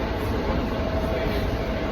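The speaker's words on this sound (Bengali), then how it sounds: "সাই সাই করে ট্রেন ট্রেনটি ছুটে চলছে" A passenger train travelling from New York to Chicago speeds along with a loud, steady rumble and rushing roar, heard continuously from onboard with no speech.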